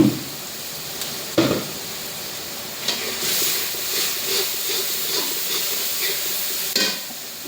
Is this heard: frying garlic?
yes